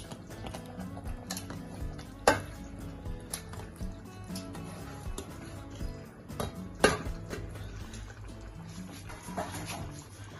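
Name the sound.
stirring mutton in pot for biryani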